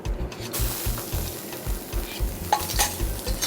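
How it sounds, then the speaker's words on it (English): Onions frying in vegetable oil sizzle steadily and close up, while a utensil stirs the pan in a repeated scraping rhythm and gives an occasional clink against the metal. "It's a vegetable oil. I'll add my onions."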